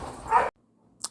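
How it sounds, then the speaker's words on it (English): A single nearby dog bark or yelp, cut off abruptly, followed by near silence and a faint short sound. "Sorry for my dog barking in the background."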